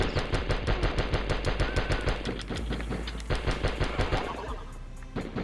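Gunfire and explosions in the video game Die Hard Trilogy: rapid, rhythmic bursts of automatic fire in steady clusters with thudding blasts, fairly loud and continuous, no voices.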